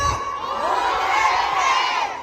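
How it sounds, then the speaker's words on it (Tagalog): A large crowd at a Philippine political rally shouting and cheering together, loud and sustained throughout, with many voices blending into a roaring chant of "Duterte." "ipakita sa buong mundo ang sigaw ng masang Pilipino"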